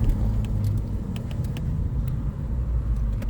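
A car driving along a road, heard from inside as a steady low rumble of engine and road noise with faint light ticks and rattles, continuous and fairly loud, with no talking.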